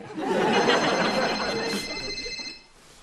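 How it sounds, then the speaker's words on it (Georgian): A telephone rings in an office setting, a bright warbling ring that holds for a couple of seconds before fading, with some background noise and no speech. "ტელეფონი გირეკავთ"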